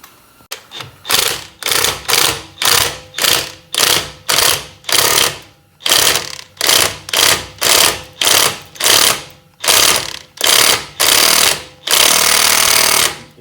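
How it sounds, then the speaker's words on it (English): An impact wrench draws a knurled wheel stud into the hub of a Jeep LJ during a brake job, hammering loudly in a long series of short rattling bursts with brief gaps, ending in one sustained run. "we'll just draw that right in and pull it in place"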